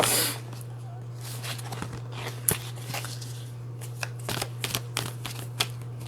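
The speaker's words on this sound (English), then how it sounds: "I want to pull another card on shadow work here." Tarot-style cards being shuffled by hand before one is pulled, a series of soft riffling snaps and taps over a steady low hum, close and fairly quiet.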